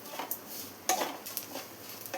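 Grated coconut fries in a pan while being stirred, soft sizzling with light scraping and a few sharp utensil clinks against the pan, close and fairly quiet.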